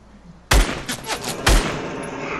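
Two loud, close gunshot blasts in Fortnite, about a second apart, each followed by a short rattle of shots and a decaying echo, with no talking.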